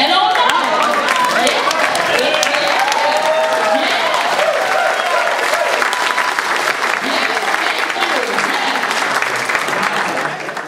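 Sustained, dense applause from a standing conference audience at a Toastmasters district spring conference, honoring the president; loud and steady throughout, with cheering voices mixed into the clapping before it tapers slightly at the end.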